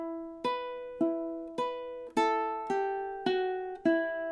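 Measure 13 of a song picked on ukulele: seven evenly spaced plucked notes and chords, each ringing and decaying before the next, played alone and close.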